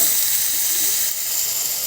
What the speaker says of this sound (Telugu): చూడండి, బాగా ఫ్రై అవుతుంది.